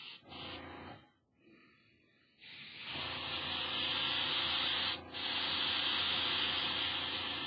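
A 0.2 airbrush spraying paint at full trigger pull gives a steady, close hiss of air and paint. A short burst is followed by a pause, then a long continuous spray with one brief break near the end.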